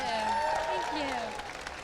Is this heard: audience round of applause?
yes